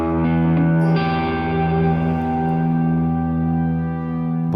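An electric guitar drenched in heavy reverb rings out in long, lush sustained chords over a soft synth pad creeping underneath, loud and continuous with no talking.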